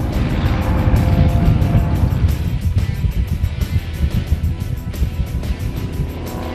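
A Corvette Z06 race car drives on a track, its engine roaring loudly and steadily up close, then settling into a rougher, pulsing drone as it moves through a corner.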